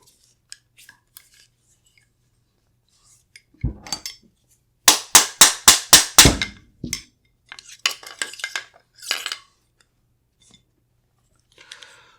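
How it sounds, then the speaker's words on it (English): Metallic clicks and clacks while swapping the barrel on a Windham Weaponry MCS multi-caliber rifle, with a rapid run of about seven sharp snaps in the middle and scattered lighter handling rattles before and after, close and otherwise quiet. "So now we're going to change out the barrel again"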